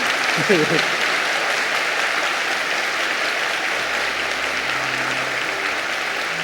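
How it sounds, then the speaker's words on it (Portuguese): Steady, sustained applause from a church congregation during a talk by a priest, a dense wash of clapping that stays at an even level throughout. "Isso merece um bom aplauso, gente."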